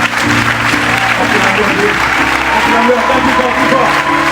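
A church congregation claps and cheers in thanks to God, sustained loud applause from a large crowd with voices and music mixed through it, continuous throughout.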